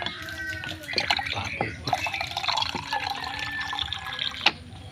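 Water runs from a dispenser tap into a container, a steady trickling fill with drips alongside, close up, with talk over it.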